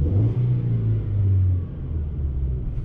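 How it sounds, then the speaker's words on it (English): A 2004 Volkswagen Golf with a replaced catalytic converter: a steady, loud low engine drone with a slight rasp from the exhaust, holding level and then easing off, close to the microphone. "It's got a little rasp coming from the back."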